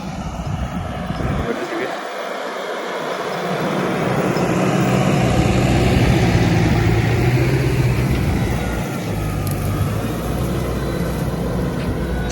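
A CLAAS Arion 440 four-cylinder, 125-horsepower tractor runs with a steady, loud engine rumble and broadband roar that swells in the middle and holds, heard outdoors during fallow field work while someone talks over it.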